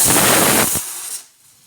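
A pressure cooker cooking chana dal lets out a loud, hissing steam whistle that cuts off abruptly, leaving near quiet.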